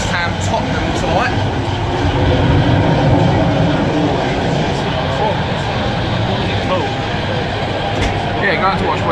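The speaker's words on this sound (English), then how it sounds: "On a train on the way to Stratford." Steady rumbling and rattling inside a moving train carriage bound for Stratford, a constant loud roar with faint squeals, people talking softly beneath it.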